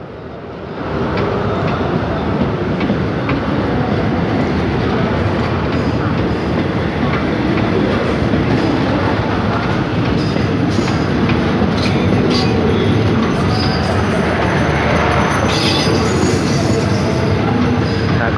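Thai southern line train number 83 departing from Bang Bamru station, with a loud, continuous rumble of rolling wheels and rattling carriages and occasional high wheel squeals throughout.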